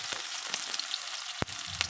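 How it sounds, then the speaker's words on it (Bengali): Chopped onions and a bay leaf frying in hot oil for chicken kosha give a steady, close sizzling hiss, broken by a few soft clicks from the spoon, with no talking. "কুচনো পেঁয়াজগুলো এবার আমি ভেজে নেব ভালোভাবে"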